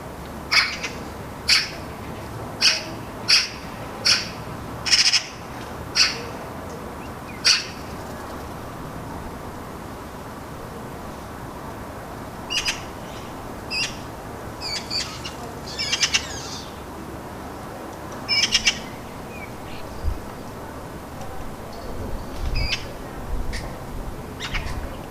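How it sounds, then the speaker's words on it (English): Baby magpies high in a tree give sharp, raspy calls in scattered bursts, a quick run of about ten early on, then irregular clusters with long quiet gaps, fairly close against faint outdoor background. "Back in the tree, and the birds sound like dinosaurs again."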